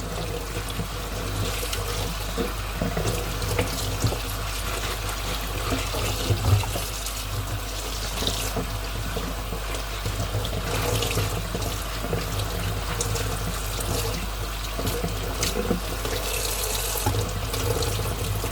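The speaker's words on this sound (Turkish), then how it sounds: "Şu maydanozumu da yıkayayım." Tap water runs steadily into a kitchen sink while parsley is washed, a continuous loud splashing rush with small shifts in tone as the leaves are moved under the stream, no talk.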